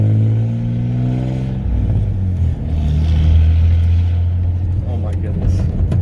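A straight-piped 1995 Ford F-150 with the 4.9 engine drones loud and close while driving, a deep throaty rumble that rises in pitch as it pulls away, with a voice heard over it.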